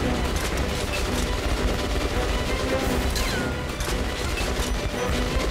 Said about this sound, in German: Knallen wir den Typen da hinten mal ab.